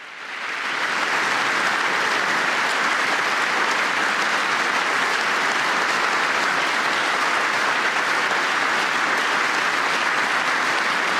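Loud, sustained applause from a large audience in the House chamber during a presidential joint address to Congress, rising quickly at the start and then holding a dense, even roar of clapping throughout.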